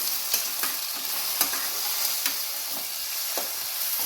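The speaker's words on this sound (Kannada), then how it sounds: "ಟೊಮೊಟೊ ಚೆನ್ನಾಗಿ ಉರಿಬೇಕು" Large tomatoes frying in a pan for dhaba-style paneer butter masala, a continuous close sizzle with regular soft scrapes and taps of a spatula stirring every half second or so.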